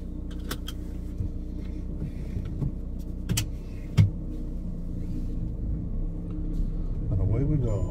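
A VW Crafter self-build campervan idles and pulls away, a steady low engine rumble with a few clicks and knocks, rising slightly at the end as it drives off.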